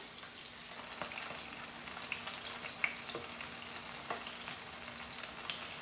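Cornstarch-coated paneer dropped into hot oil, giving a soft, steady sizzle and bubbling with faint crackles and a few small pops, close but quiet.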